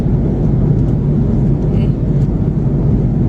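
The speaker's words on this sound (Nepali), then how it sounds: "यो प्लेन हामी उडेको प्लेन" A loud, steady low roar of an airplane engine, continuous and close, like a cabin hum.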